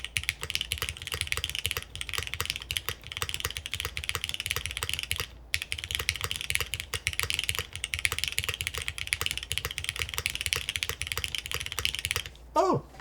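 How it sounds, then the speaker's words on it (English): Steady, rapid typing on a top-mount mechanical keyboard with a plastic plate, crisp, slightly hollow clacks, close up, continuing for several seconds with a brief pause. "Let's give it a little bit of a typing test here"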